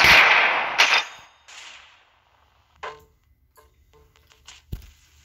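Gunfire in the Roblox shooter Arsenal: a loud burst of shots opens, then fades into scattered sharp cracks, clicks and a thump, close and without talk.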